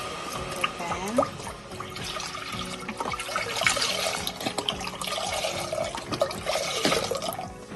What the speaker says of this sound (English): Pour the chicken broth in the pan.